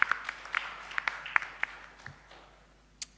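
A church congregation gives a round of applause during a sermon, heard as a faint, sparse scatter of individual claps with gaps between them, ending with one last clap.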